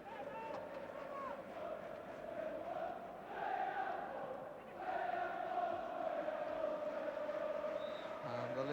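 Leeds United supporters roar at a football match between Sheffield Wednesday and Leeds United, a dense, continuous crowd din with swelling chants late in the game, heard under a commentator's voice.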